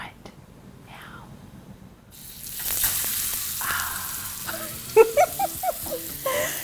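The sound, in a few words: steaks sizzling in a pan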